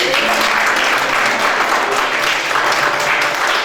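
A church congregation applauds steadily and loudly, dense continuous clapping filling the whole moment without pause.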